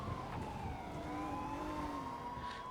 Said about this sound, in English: Enjoy the sounds of the city, which is just sirens and cars go fast.